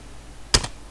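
Computer keyboard being typed on: a couple of quick, close key clicks in a single brief burst within an otherwise quiet moment.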